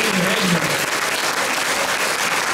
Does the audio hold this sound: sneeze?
no